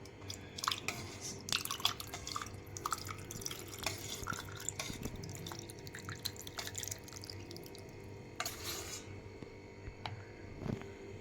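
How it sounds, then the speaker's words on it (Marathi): Homemade watermelon sherbet trickles into a glass holding soaked sabja seeds, giving quiet close-up splashes and scattered drips over a soft steady background. "आता त्यामध्ये हा सरबत ओतून घ्यायचा आहे"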